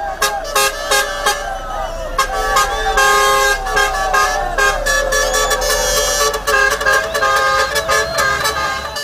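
Tipper trucks in a celebratory street procession through the central business district of Kitwe, horns honking loudly and almost without pause, in overlapping toots and blasts over steady engine rumble.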